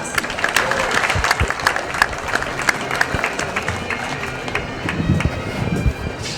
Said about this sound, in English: Big round of applause for the Honourable Chris Hayes.